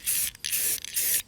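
An aerosol spray-paint can held upside down while painting a shed outdoors, giving three hissing bursts separated by short pauses, close and fairly quiet.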